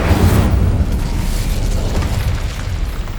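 A heavy explosive spell blast in Hogwarts Legacy: a loud, broad boom that trails into a sustained rumbling roar lasting several seconds, with no voices.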